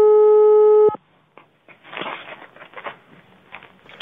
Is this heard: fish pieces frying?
no